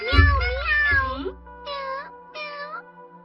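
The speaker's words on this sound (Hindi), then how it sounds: "लगता है हम लोग गलत बिल्ली का पीछा कर रहे थे दोस्तों।" A cartoon cat meows three times up close, loud and clear. The first long meow comes over a low rumbling, followed by two shorter meows in a steady run, with no talking.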